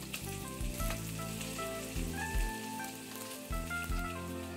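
Hot spice tempering is poured over rice for a hariyali biryani and gives a dense, steady sizzle with crackling. Background music plays under it throughout.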